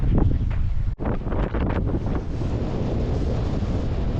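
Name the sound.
wind blowing on a lakeshore walk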